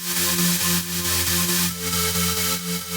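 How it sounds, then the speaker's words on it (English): A square wave synth line for a melodic dubstep track plays loud and steady as a buzzy, hollow tone, with notes stepping between pitches in a repeating rhythmic pattern. "wanted it to sound like a square wave, which sounds like this"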